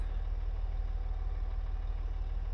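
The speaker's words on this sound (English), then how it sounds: "we got both John Deere tractors here idling, waiting to go." Two John Deere tractors idling in the Farming Simulator 17 video game, a steady low, rhythmic engine chug at moderate level with a faint hum above it, with no talking.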